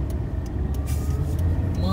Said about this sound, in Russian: Маленькая пробуксовочка.